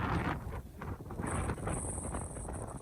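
Strong wind buffets the microphone in steady, rumbling gusts over drought-hit onion fields in Mindoro, Philippines, with a broad roar that continues throughout and no voices.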